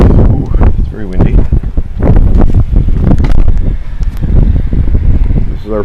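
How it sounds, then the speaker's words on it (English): Strong blizzard wind gusting in Naperville, Illinois, loud and buffeting the microphone throughout with a steady roar and surging gusts, while a person talks over it. "it's very windy"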